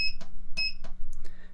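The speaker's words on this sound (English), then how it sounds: "I'm going to go to the menu. I'm going to hold it for 3 seconds. You'll hear it beep." A Nurture Right 360 quail egg incubator gives two short, high electronic beeps about half a second apart while its menu button is held, over a low, steady fan hum and some handling clicks.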